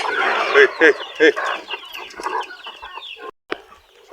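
Several chickens cluck nearby in short bursts, with a few louder calls near the start, and a voice speaks briefly in the background.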